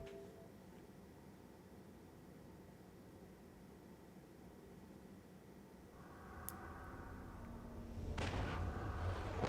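A booming explosion sound effect from a video game logo intro, played through a Polymega console with enhancements enabled, swells up from a low rumble and bursts loudly near the end.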